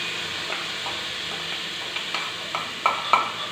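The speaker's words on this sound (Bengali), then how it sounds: "ডালিয়া দিয়ে একদম ভালো করে ভেজে নেব" Broken wheat (dalia), washed and added to vegetables, frying in a pan with a steady soft sizzle, plus a few louder scraping stirs near the end.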